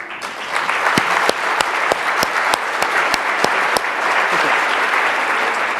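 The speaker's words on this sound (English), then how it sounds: "Another round of applause for her." An audience at a keynote address claps steadily, a dense wash of applause with sharp individual claps popping out, continuing for several seconds.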